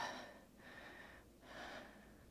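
Two long, deep breaths in a yoga flow, each a broad breathy rush with a short pause between, close and fairly quiet, with no talking.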